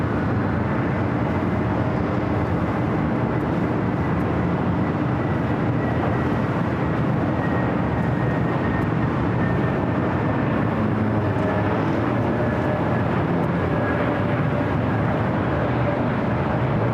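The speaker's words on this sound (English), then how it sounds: "Next arrival is JetBlue Flight 723 coming from JFK. It's an A321neo here on the north side." A JetBlue Airbus A321neo arrives at LAX on the north side after a flight from JFK. Its jet engines make a steady, broad roar with a faint tonal whine that stays constant throughout.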